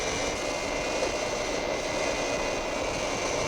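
Jet airliner on approach to land at Copenhagen airport, a steady, loud engine roar with a constant high whine, unbroken throughout.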